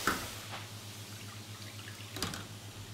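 A food basket lifted from hot deep-fryer oil, with soft liquid dripping and trickling throughout, a brighter splash of drips near the end over a low steady hum.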